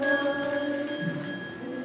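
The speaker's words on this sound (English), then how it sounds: "every time a bell rings, an angel gets its wings" A bell rings in a live radio-play staging of It's a Wonderful Life, a single bright, close strike whose clear, steady tone rings on and slowly fades over a couple of seconds, with no voices.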